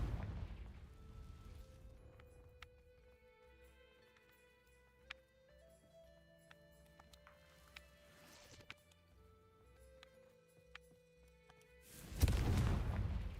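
The Confringo explosive spell in Hogwarts Legacy bursts as a single loud blast near the end, after a long quiet stretch of soft sustained musical tones and scattered light clicks.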